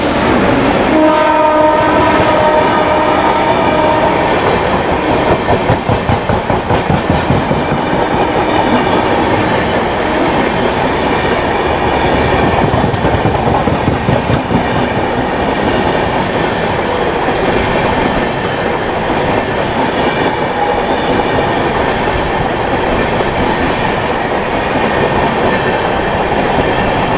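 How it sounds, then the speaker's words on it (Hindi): The Kalindi Express passenger train runs past on the rails at night. It makes a loud, steady roar with continuous wheel rumble, and a horn blares at the start. The sound carries through the whole stretch without speech. "यहाँ भी कोई ट्रेन जो है जा रही"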